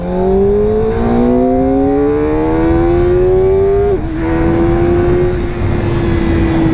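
A Kawasaki ZX-4RR motorcycle engine revving up, its rising howl climbing steadily for about four seconds, dipping sharply as the throttle is backed off, then holding a loud, near, sustained whine.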